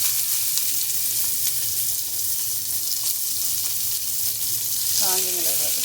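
Mustard seeds, chana dal, cumin and curry leaves sizzle in hot oil for a tempering, a steady close crackling fry with light stirring and a brief voice near the end.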